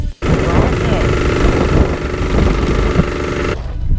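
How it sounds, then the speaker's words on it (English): A dirt bike engine running without a muffler, loud, harsh and close, with a rapid popping rattle that continues for about three seconds and then cuts off abruptly. "I know you can ride a dirt bike without a muffler"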